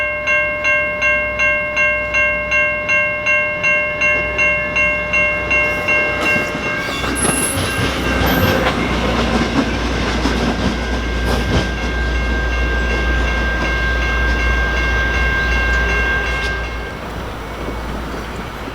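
An EXO commuter train hauled by an EMD F59PH locomotive passes close by, opening with a rhythmic series of loud horn blasts, then a heavy rumbling pass of rolling cars with wheel clatter that gradually eases.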